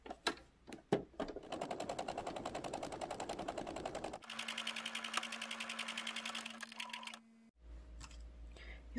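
A sewing machine stitches a rectangular section of a fabric 3D face mask in fast, steady bursts. The stitching runs close and loud for several seconds, pauses, then resumes, with no talking.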